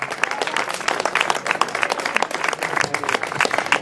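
Audience applause fills a town square at an evening poetry reading in local dialect, a dense, steady burst of many hands clapping for a few seconds with crowd noise beneath.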